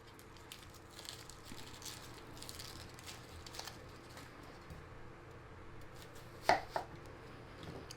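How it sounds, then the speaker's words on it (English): Onions and carrots being chopped with a sharp knife on a board, quiet soft cuts through a low background hum, with two sharper knocks near the end. "let's get some onions and carrots chopped"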